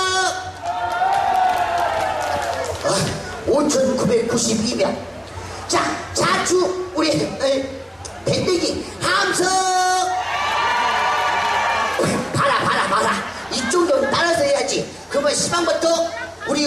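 A festival crowd at a Pumba folk performance in Muan cheers and shouts in loud bursts, with whoops and children's shouts rising between stretches of an amplified performer's voice.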